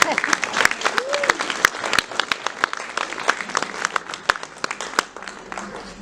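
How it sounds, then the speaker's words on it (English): Wedding guests applaud the groom after the vows, lively irregular clapping from a room of people with sharp individual claps up close, a brief voice heard early on. "Come on, give him a big round of applause."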